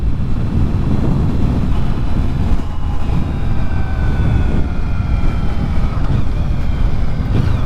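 A Yamaha VMAX motorcycle on the road, with a steady low engine drone and rushing wind noise throughout, continuous and fairly loud with no talk over it.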